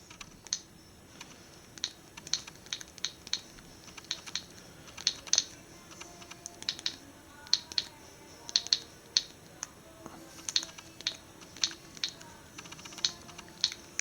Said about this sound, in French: si je veux taper du texte avec ces petites touches là